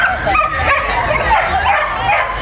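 Dogs at a flyball competition final in Hungary bark, yip and whine excitedly and continuously, close and loud, over background crowd noise.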